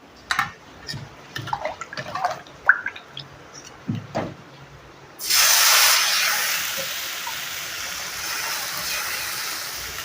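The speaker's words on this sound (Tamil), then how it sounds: "இப்போ இன்னும் ஒரு தோசையை ஊற்றிக்கலாம்" Instant onion rava dosa batter hits a hot pan after a few light utensil clatters, bursting into a loud, broad hissing sizzle that slowly settles but keeps going.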